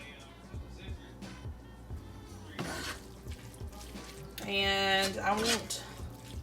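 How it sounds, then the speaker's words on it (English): Water is poured into a pan of gravy cooking on a stove, a short rising gurgling pour near the end after someone speaks briefly. "to add just a touch more water"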